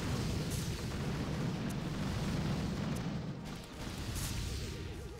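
Artillery barrage strikes a Doom Cannon in the mobile strategy game Boom Beach, a dense, continuous rumble of booming explosions layered together at steady loudness, with a brief dip near the end before the blasts resume.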